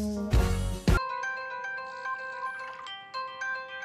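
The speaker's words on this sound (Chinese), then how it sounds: "电话。" A mobile phone ringtone plays a repeating melodic electronic chime for several seconds, clear and steady after a short loud burst at the start, with no talk over it.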